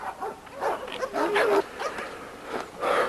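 Red dogs with black masks in a yard, barking and yipping in a quick irregular series, fairly close and loud, with some whimpering mixed in.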